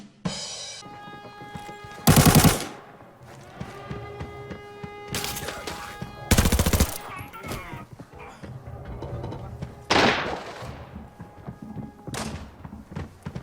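Automatic gunfire from a rifle loaded with M995 rounds in the shooter game Arena Breakout: several loud, separated bursts punch through a steady tonal game soundtrack, each burst short and heavy.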